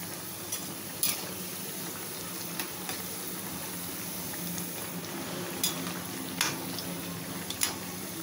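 Banana flower vadai fry in hot oil, with a steady soft sizzle and bubbling throughout and a few faint clinks of a utensil at scattered moments.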